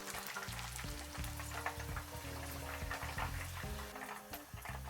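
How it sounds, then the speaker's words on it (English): Fish fillets fry in hot oil with a continuous crackling sizzle, dense popping and bubbling throughout, moderately quiet and close, with no voices. "To get very crispy pieces, put them back in the oil for another minute."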